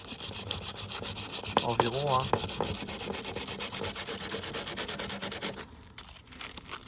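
Hand sanding a part from a vintage fuel pump: steady, close-up rhythmic rubbing strokes of abrasive on metal that continue throughout, with a brief voice speaking partway through.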